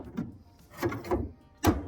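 Plastic lint screen of a GE dryer sliding and clunking into its slot, a few rubbing scrapes followed by a firmer knock as it seats, close and without talk.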